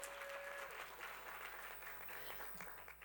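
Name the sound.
audience applause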